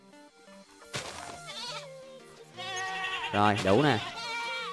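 A Minecraft goat bleats several times in wavering, nasal cries, with the loudest calls near the end, over game music. Someone talks briefly alongside.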